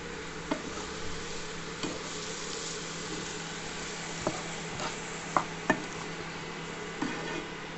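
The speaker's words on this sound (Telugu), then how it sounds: "ఉప్పు, పసుపు వేసాక బాగా కలిపేసి" Brinjal curry with salt and turmeric being stirred in a pan, a low steady sizzle with scattered soft scraping knocks from the spoon at irregular intervals.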